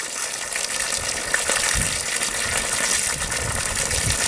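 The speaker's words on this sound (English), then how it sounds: "You can just open the valve and let it drain" Water gushes steadily out of an opened valve on a water barrel set up on a 4x4 block, a continuous close, even rush with no break for the whole stretch.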